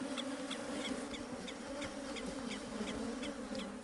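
A swarm of honey bees on the attack, a dense, steady buzzing drone of many insects close to the microphone, with sharper individual wing pulses flicking past throughout.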